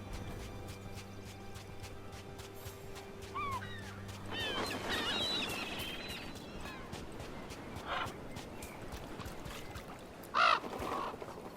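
Crows caw in the fantasy video game Dragon Age: The Veilguard, a few scattered calls rising over a quiet outdoor ambience with soft shuffling movement and a brief louder burst near the end.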